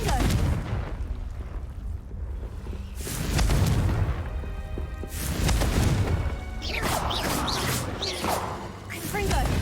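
In Hogwarts Legacy, the Confringo fire-blast spell sets off booming explosions and whooshing blasts in repeated waves. A voice talks over the loud noise in places.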